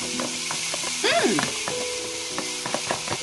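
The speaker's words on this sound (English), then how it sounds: "we have some butter in our saucepan. What we're gonna go ahead and do is the saute our jackfruit." Jackfruit sautéing in butter in a saucepan gives a close, steady sizzle with utensil stirring and a brief tonal squeak in the middle.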